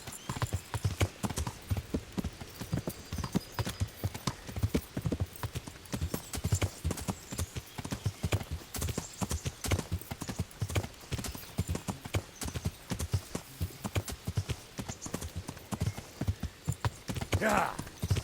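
Video game horse hooves clip-clopping in a quick steady rhythm throughout, with a brief whinny near the end and voices talking over it.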